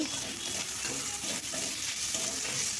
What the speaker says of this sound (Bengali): মশলাটা একটু ভাজা ভাজা হয়ে গেলে টমেটো কুচি দিয়ে দিচ্ছি